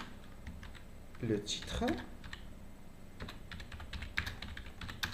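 Computer keyboard typing in short irregular bursts of clicks while a French teacher writes out a lesson title, with brief speech over the keys.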